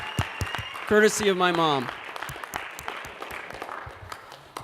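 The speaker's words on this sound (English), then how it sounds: "one more round of applause for Kayla." An audience applauds for Kayla at a film premiere Q&A event, scattered clapping running throughout, partly under a person speaking briefly near the start.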